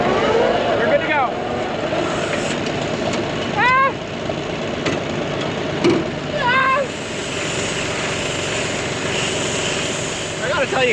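A farm tractor's engine runs steadily during hay wrapping, a loud continuous drone with intermittent squeals and creaks from the machinery over it.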